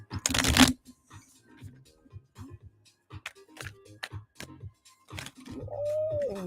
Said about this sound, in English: My tarot cards are popping.